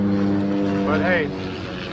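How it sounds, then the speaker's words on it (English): A propeller plane drones overhead in a backyard, a steady low hum under someone talking, briefly rising in pitch. "that's a plane going overhead"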